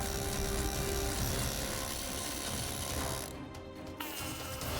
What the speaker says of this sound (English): The needle scaler was a huge help.